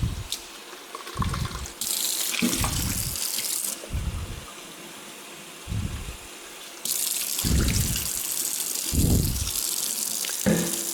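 Tap water gushes and splashes while rinsing out the dirty water tank of a Dreame H12 Pro wet-dry mop in a laundry sink, flowing in steady stretches broken by several low, hollow knocks and sloshes.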